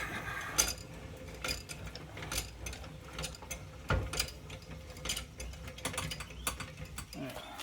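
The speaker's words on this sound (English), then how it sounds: "Now I'll get the tire on the ground and finish tightening it." Boat trailer wheel lug nuts tightened after a bearing replacement, heard as a quiet ratchet wrench clicking in short, irregular bursts with small metallic knocks between them.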